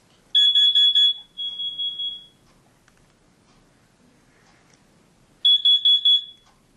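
Piercing, shrill beeping from a household smoke alarm being tested: a quick run of sharp chirps followed by a longer tone, a pause of near silence, then another rapid set of beeps, heard clearly in a quiet house.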